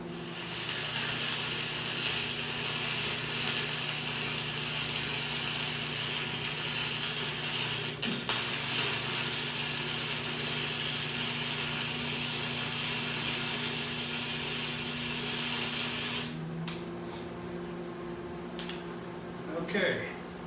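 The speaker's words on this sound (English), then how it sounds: "I'm going to weld half the top" Harbor Freight welder laying a bead on butted 3/8 inch steel plates, a steady loud crackling hiss sustained for about sixteen seconds before cutting off, leaving a low hum and faint clicks.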